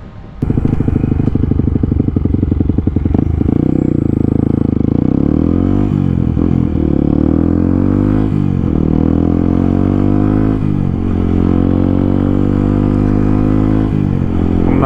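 A Yamaha WR125 motorcycle ridden along a road, its small single-cylinder engine droning loud and close, with several rises and dips in pitch as it accelerates through gears over steady wind rush.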